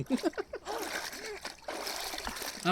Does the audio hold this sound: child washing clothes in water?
yes